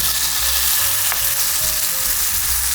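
Buckwheat pancake batter with vegetables frying in a lightly oiled pan crackles in a loud, close, continuous sizzle with no voices.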